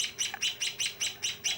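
Lovebird chicks chirping while being hand-fed with ready-made baby bird formula, giving a steady run of about eight close, high, rhythmic begging chirps in quick succession.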